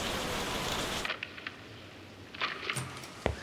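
Rain falls in the video game Lost Judgment, a steady hiss of rainfall that cuts off abruptly about a second in, leaving quieter ambience with scattered taps and soft thuds.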